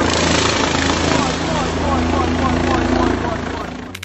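A helicopter hovering low beside a tree, its rotor and engine making a loud, steady, dense roar with a whirring, chopping texture that holds throughout and fades slightly at the end.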